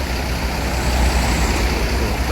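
Heavy truck rumbling past on a busy road, a loud, continuous low engine roar with broad road noise close by.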